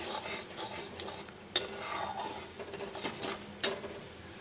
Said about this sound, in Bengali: এবার মশলাটা কিন্তু ভালো করে ফুটিয়ে কষিয়ে নিতে হবে, যাতে এতে আদা মৌরির কাঁচা গন্ধটা চলে যাবে।